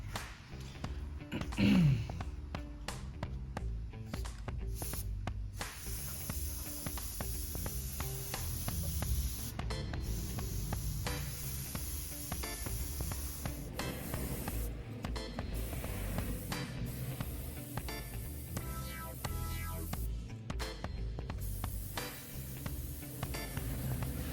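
An airbrush sprays paint onto a small Bandai Millennium Falcon model in short, uneven hissing bursts with faint taps between them. A person talks quietly at times.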